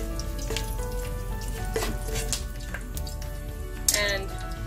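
Green chilies and curry leaves frying in oil in a pan on low flame, a soft steady sizzle with a few crackling pops and light stirring clatter, close by.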